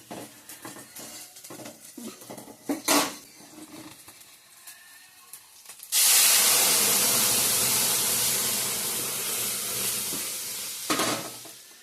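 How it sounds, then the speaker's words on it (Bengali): Urad dal tipped into hot tempering oil with bay leaf, dried chilli, green chilli, cumin, ginger and garlic, bursting into a loud, steady sizzle that fades slowly, after a few stirring clinks. "ডালটা এখন দিয়ে দেব মশকলাইয়ের ডালটা"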